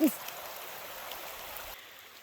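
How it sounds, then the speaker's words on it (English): A small creek runs over tiny rapids at a trail water crossing in the Smoky Mountains, making a steady, soft rushing wash that carries on evenly after a brief voice at the start. "I knew there were water crossings, but I had no idea there were water crossings with tiny rapids"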